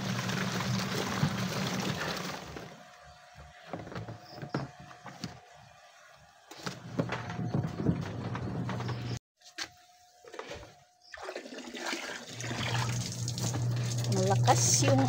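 Strong running water gushes during washing, close and loud, cutting in and out with brief pauses, while people talk over it.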